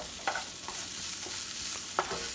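Onions and garlic sauté in a pan over low to medium heat, a steady close sizzle broken by a few sharp stirring scrapes, with no voices.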